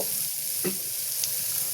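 Pre-fried potato and pumpkin sizzle in a pan of fried onions, a steady close hiss with a couple of soft spatula knocks.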